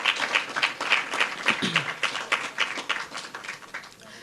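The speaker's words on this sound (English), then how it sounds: "Yes, please give them a round of applause." Applause from an audience at a 2017 secondary school spelling bee in St. Lucia, steady dense clapping that carries on throughout at moderate volume.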